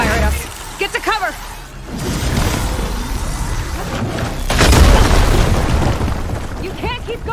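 In Horizon Forbidden West, a hostile machine fires and sets off a barrage of explosive blasts: rumbling booms and crackling bursts surge and swell amid game music and effects, with voices speaking intermittently over the chaos.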